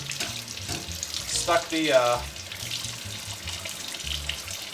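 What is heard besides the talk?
tap water rinsing out a trumpet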